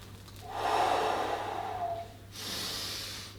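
A deep, audible breath is drawn in through the nose during a resistance band chest press workout, a long airy inhale followed by a short hissing exhale, close and alone.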